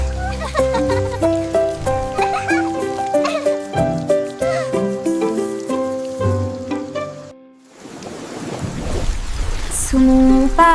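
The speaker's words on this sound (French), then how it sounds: "nous avons regardé les gouttes de pluie tomber du ciel" Rain falls in a French children's song: a bright tuned melody plays, then briefly drops away to a dense, steady hiss of rain, with music rising again near the end.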